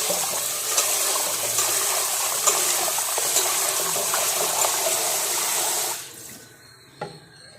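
Rice being washed in water makes a steady, loud rushing and sloshing wash that runs for about six seconds, then drops to quiet with a brief clatter near the end.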